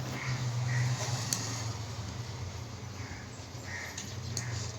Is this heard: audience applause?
no